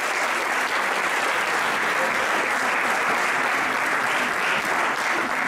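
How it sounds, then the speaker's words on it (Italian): A hall audience at a sports awards ceremony in Melendugno breaks into loud, sustained applause, an even wall of clapping without pause. "Un fortissimo applauso"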